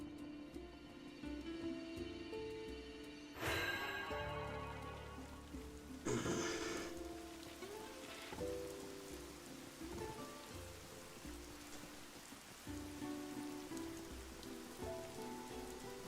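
Rain patters steadily in the video game Stranger of Paradise, with a continuous hiss of drops on surfaces and a few brief louder game effects over the top.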